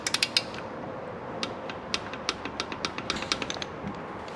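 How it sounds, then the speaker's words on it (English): Torque wrench ratcheting while tightening the oil drain plug on a YCF Start F88SE pit bike engine, a rapid series of sharp metallic clicks up close, in quick bursts with short pauses, no talk. "we just use a torque wrench and that'll make sure that the drain plug's tight like it should be"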